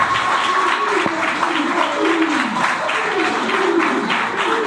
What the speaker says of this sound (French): je tiens d'abord à demander à tous et à chacun d'applaudir ce monsieur